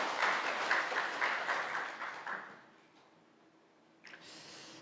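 A church congregation claps steadily for a few seconds after a prayer, then the applause fades out, leaving quiet with a faint noise at the end.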